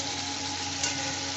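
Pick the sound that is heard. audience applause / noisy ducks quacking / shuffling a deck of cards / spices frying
spices frying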